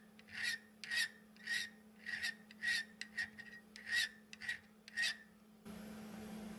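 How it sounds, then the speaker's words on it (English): A hand file rasps across a MIG-welded sheet metal seam in about nine even back-and-forth strokes, close and clear, before the filing stops and a low hum remains. "I'm going to show you with a file how easy this is."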